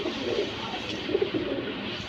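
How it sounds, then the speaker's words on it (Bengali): Pigeons cooing under a steady, fairly loud background hiss, a few short low coos rising briefly above the noise at close range. "এই যে দেখেন খুব সুন্দর কবুতর"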